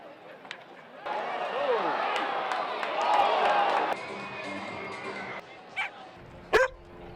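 Several dogs bark and yip amid a murmuring outdoor crowd at a minor-league ballpark's dog day event, with a few sharper barks standing out near the end.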